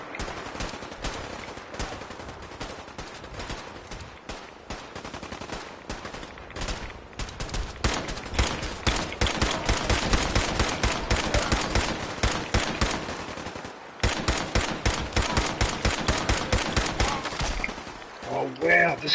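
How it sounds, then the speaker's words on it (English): Sustained machine gun fire in Fallout 4 rattles on in long rapid bursts, with only a couple of brief breaks, loud and close throughout, while a voice talks over part of the shooting. "this gun just keeps shooting and shooting and shooting"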